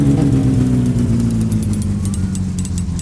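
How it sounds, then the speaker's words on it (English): In a video game, a car engine idles steadily with a rapid, light metallic ticking riding over the rumble, caused by rocker shaft valves set too loose or too tight, loud and continuous without speech. "is caused by the valves on the rocker shaft either being too loose or too tight, and letting in or out too much air"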